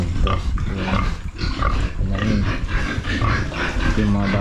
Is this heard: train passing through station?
no